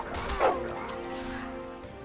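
A dog barks and whimpers in a Game of Thrones video game, a short yip followed by whining cries, fairly close and clear with no talking.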